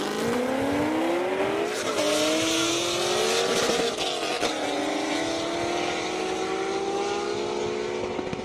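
A Corvette at an airstrip speed-trap event roars past at full acceleration, its loud engine note climbing steadily through the gears over the whole span.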